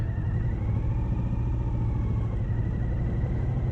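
A 2020 Suzuki V-Strom 1050XT motorcycle rolls slowly in first gear near idle, its engine giving a steady low, throbbing rumble that holds even and close throughout with no voices.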